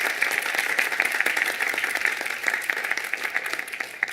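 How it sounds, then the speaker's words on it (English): Audience applause at a spiritual gathering, a steady wash of many hands clapping at moderate distance, continuous and even throughout with no voices standing out. "Applause to them."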